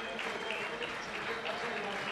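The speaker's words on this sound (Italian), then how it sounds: "E comunque grande applauso," A stadium crowd applauds steadily for a runner retiring from a 5000 m track race in Rovereto, with sustained, fairly distant clapping throughout.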